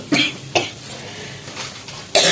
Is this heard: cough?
yes